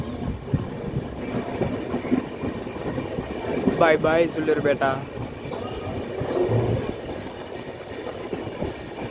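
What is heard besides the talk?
train departing Sullurpeta station, clickety-clack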